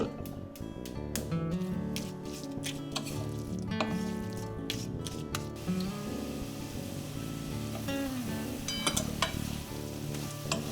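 Grated coconut and date palm jaggery cook together in a wok, a steady close sizzle with soft squishy stirring, and background music plays underneath.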